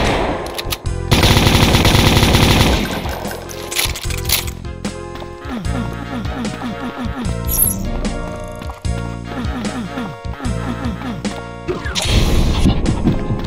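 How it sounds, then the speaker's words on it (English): A plasma rifle fires in the video game Brutal Doom 2, a loud rapid barrage of energy shots amid game effects, continuous and dense across the whole stretch. "Oh, plasma rifle."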